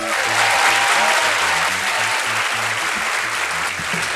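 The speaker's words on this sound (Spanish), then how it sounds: "Un fuerte aplauso" Live audience at a Peruvian comedy show applauding, a dense steady wash of many hands clapping loudly throughout, with faint music tones underneath.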